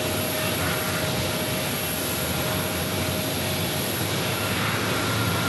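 An airliner arrives at Pittsburgh airport, its jet engine roar steady, loud and broadband for several seconds with no voices, a faint constant tone running underneath.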